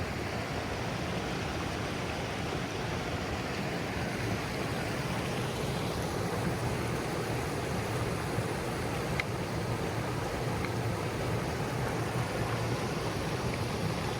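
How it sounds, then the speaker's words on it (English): Steady rushing water of Clear Creek in the Grand Canyon flows continuously in winter, a broad, even wash of sound with no voices. "And here's Clear Creek, right over here."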